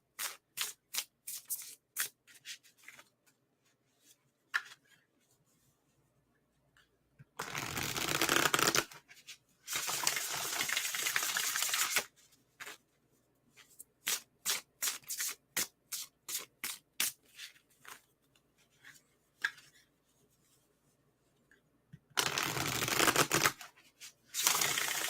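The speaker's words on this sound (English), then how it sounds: "Almost done shuffling." Tarot cards shuffled by hand in repeated bursts: quick riffling flutters and longer dense shuffles, close and crisp, separated by short quiet gaps, with no talk.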